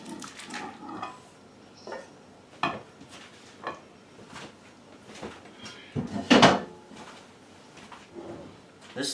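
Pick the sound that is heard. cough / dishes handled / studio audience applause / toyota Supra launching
dishes handled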